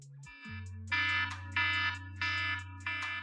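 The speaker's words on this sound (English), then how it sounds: "it's the default alarm sound on an iPhone" The default iPhone alarm tone sounds in four short, bright bursts at an even pace, with a steady low drone running underneath.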